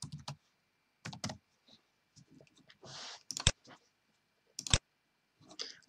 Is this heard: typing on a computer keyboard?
yes